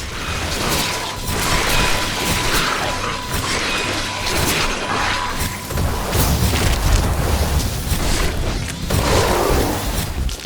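Volcanic eruption rumbling with falling rock bombardment in The Riftbreaker, a continuous loud, dense roar with heavy thuds and crashing impacts scattered throughout, layered with mechanical game noise.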